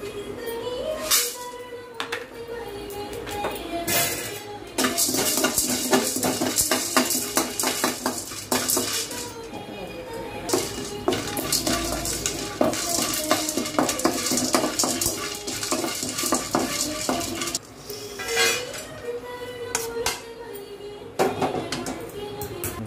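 Whole spices such as cinnamon bark are dry-roasted for homemade garam masala powder. A utensil scrapes and clinks steadily against the pan, with loud rattling stirs throughout.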